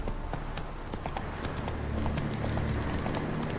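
Roach, the horse in the video game The Witcher 3, trots with clear, evenly spaced hoof clip-clops up close, over a low steady background hum.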